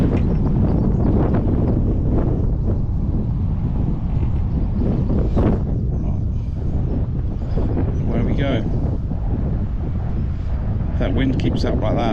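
Strong wind at a fishing lake at Tunnel Barn Farm buffets the microphone with a constant low roar, close and loud throughout.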